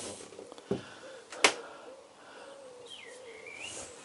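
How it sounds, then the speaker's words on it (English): Birds singing outdoors on a calm morning beside a narrowboat, a few quiet distant chirps and calls with a brief sharper note, over faint background. "birds are singing"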